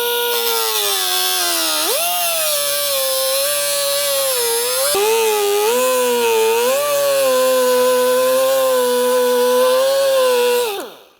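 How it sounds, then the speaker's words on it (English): A small pneumatic cutoff wheel slices through a second-generation Toyota Sequoia rear bumper, a loud continuous high whine that rises and dips as pressure changes, close up and alone, winding down at the end. "We're just using a small pneumatic cutoff wheel here."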